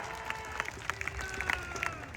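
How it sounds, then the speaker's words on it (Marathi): A crowd at an outdoor wrestling event claps in a dense, steady patter of applause, heard at middle distance with faint voices mixed in. "त्याच्यासाठी पुन्हा एकदा हात उंचून टाळ्या करा"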